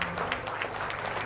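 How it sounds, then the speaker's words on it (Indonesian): An audience claps at an Islamic junior high school graduation ceremony honoring third-cohort alumni, producing a brief burst of dense, continuous applause. "sekali lagi tepuk tangan yang paling meriah"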